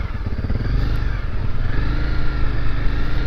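A Honda motorcycle engine runs steadily nearby, a loud continuous throbbing idle with rapid low pulses and slight clatter, no voices over it.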